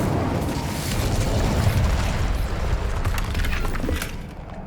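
A fire spell cast in Hogwarts Legacy: a sustained roaring, crackling blast with bursting pops, loud and steady throughout before easing off at the end.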